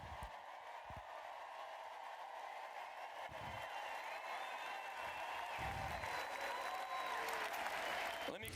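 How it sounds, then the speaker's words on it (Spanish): Congregation applause at a Spanish-language church service, a steady wash of clapping that builds slightly in loudness across the stretch, fairly distant and reverberant, with some low background noise beneath. "dale a Dios un aplauso ahora mismo"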